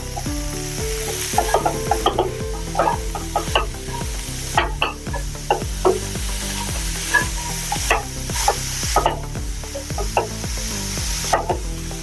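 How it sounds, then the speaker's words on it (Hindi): Green onion leaves stir-fried in a pan for hara bhara kabab, with a constant sizzle under regular scraping strokes of a spoon against the metal, close and fairly loud, repeating roughly every second with no talking. "थोड़ी देर इसको हमने भून लिया है।"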